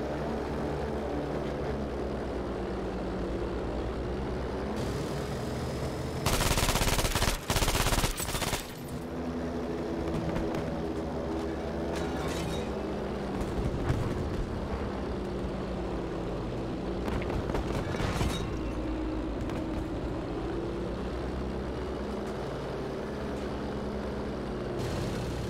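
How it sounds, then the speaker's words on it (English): An enemy propeller plane drones overhead in a combat video game, a steady engine hum under bursts of machine-gun fire, with a loud blast of gunfire near the start and scattered shots later. "There's a plane on me."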